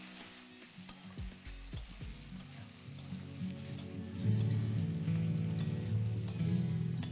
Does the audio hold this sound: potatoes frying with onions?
yes